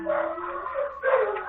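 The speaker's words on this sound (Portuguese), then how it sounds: "a cachorra tá fazendo muito barulho aqui agora" A female dog howls and whines in long wavering tones, fairly close and moderately loud, with no talking over it.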